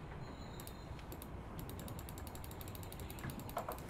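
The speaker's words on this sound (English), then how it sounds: "I wish my shoe didn't sound like a dying dog." A shoe creaks in an old flash game, making rapid ratcheting clicks that repeat in quick bursts over a low steady hum.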